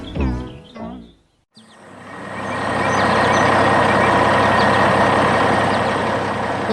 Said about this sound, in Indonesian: Lihatlah truk oranye itu melaju dengan tenang membelah keheningan hutan yang damai.